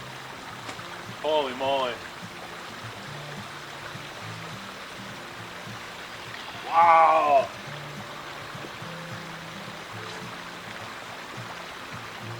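Water spills over stone in a backyard pondless waterfall, giving a steady, even rushing and trickling wash throughout, close up, with two brief excited exclamations from people over it.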